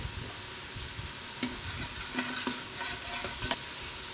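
Onions, garlic, paprika and cayenne fry in a pan for refried beans, a steady close sizzle broken by several sharp stirring scrapes and clicks, with no talking.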